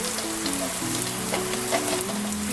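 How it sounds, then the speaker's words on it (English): Cream cooking down in a pan for a salmon and vegetable quiche, a steady close sizzle and bubbling throughout with faint stirring scrapes, no talking. "Don't forget to keep on stirring"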